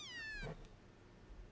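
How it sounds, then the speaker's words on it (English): A Pokemon meowing in a Pokemon video game, a single drawn-out, high, slightly falling cat-like meow that cuts off after about half a second, followed by quiet game background. "when it meows like that, not that scary."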